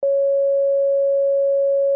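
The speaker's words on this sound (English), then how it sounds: "Look at this sine wave I have." A steady pure sine-wave test tone sounds alone for two seconds at one constant pitch and level, starting abruptly and holding without any variation.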